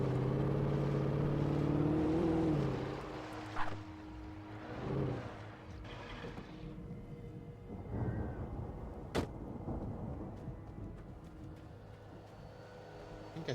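A car engine revs loudly in the Alan Wake video game, rising with a strong drone in the first few seconds before settling into a quieter steady hum broken by a few sharp clunks and knocks.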